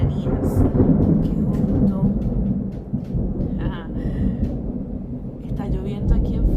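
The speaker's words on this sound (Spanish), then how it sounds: "está lloviendo aquí en Florida" Heavy rain falls in Florida with deep rolling thunder rumbling underneath, and a voice speaks over the storm.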